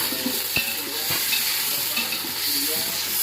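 Chopped onions stirred in a hot pan for khichdi, a steady sizzle broken by a few sharp scrapes of the spoon against the metal, close and fairly loud with no talking.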